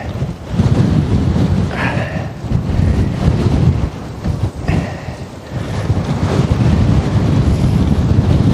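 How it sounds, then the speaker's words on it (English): A strong headwind buffets the microphone on an uphill climb, a loud, rumbling roar that rises and falls in gusts for the whole stretch. "Uphill into a headwind."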